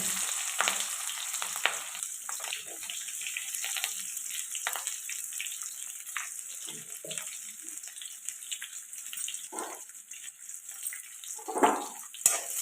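Onions and green chilies fry in an Indian kitchen pan with a soft, steady sizzle. Scattered clinks and stirring scrapes rise over it, and a brief louder rustle of stirring comes near the end.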